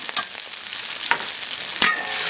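Dried chilies and Sichuan peppercorns stir-fried in a wok, a continuous sizzle broken by a few scraping stirs of the spatula, close and fairly loud with no voices.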